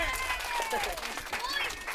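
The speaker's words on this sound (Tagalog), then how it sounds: "Palakpak muna para kay Mami" A short burst of clapping and cheering from a small crowd, with voices chattering over it.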